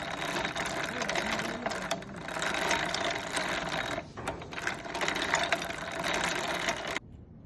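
A stretched thread is being twisted into rope, giving a continuous close whirring, rattling drone that cuts off abruptly near the end.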